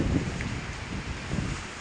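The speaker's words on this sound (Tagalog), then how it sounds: "Grabe lakas hangin." Typhoon wind blows across open fishponds in Malolos, Bulacan, a brief low rushing roar with microphone buffeting in gusts, steady and close, with no one speaking.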